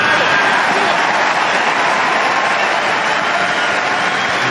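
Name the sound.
Wimbledon tennis crowd applauding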